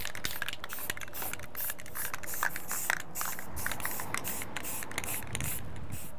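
Continuous hiss of Rust-Oleum Rust Reformer spray paint applied in a light coat around a metal handrail, steady and close for the whole stretch with small flutters as the can moves.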